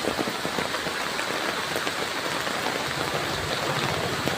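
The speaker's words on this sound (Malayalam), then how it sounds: "മഴ പെയ്തിട്ട് ഭയങ്കര മഴയാണ്." Heavy rain pours onto a roadside in Koyilandy Moodadi, where water is pooling; a dense, steady hiss of rain holds at an even level throughout, with no voices.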